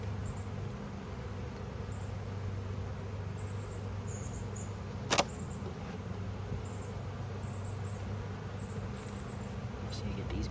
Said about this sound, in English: get these bees out of here